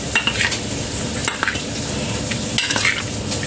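Pork belly tossed with seasonings and brown sugar in a pan, giving a steady close sizzle with soft scraping stir strokes, a few sharper utensil clicks over the frying hiss.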